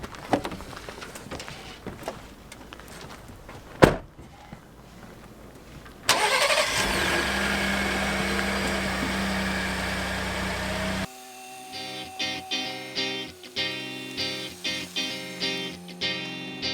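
The engine of a Coachmen Beyond Class B RV cranks and fires after a quiet start, then settles into a steady rumbling run before a rhythmic pulsing sound takes over near the end.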